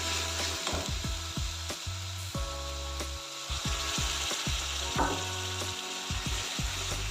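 Fish curry with tomatoes sizzles and crackles in a pan right after a little water is added, a steady close frying hiss that persists throughout alongside scattered low knocks and scraping.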